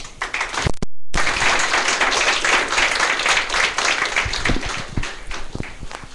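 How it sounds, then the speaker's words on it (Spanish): An audience at a lecture on Internet architectures claps in a dense, steady round of applause that fills the room, broken by a brief dropout near the start. "Recibámoslo con un fuerte aplauso."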